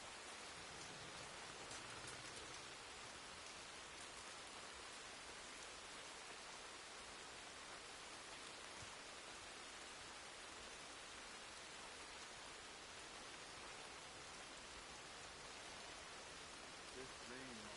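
Rain pours in Red Dead Redemption II, a steady, dense hiss that stays even and unbroken throughout, with no other sound standing out.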